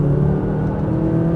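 McLaren 570S engine pulling hard to full power on a track, a loud, steady low rumble with a rising drone that fills the whole moment without a break, close and continuous.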